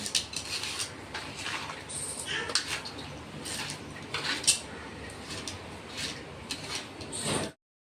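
A spoon works garlic chutney into pickle masala in a pot, giving soft repeated scrapes and light metallic clinks at an uneven pace, fairly faint and close, with no talking.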